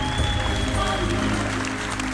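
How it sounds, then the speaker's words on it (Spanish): Applause from a group greeting a team, a steady patter of clapping that carries on without a break for the whole short stretch, fairly close and moderately loud. "Uma grande salva de palmas!"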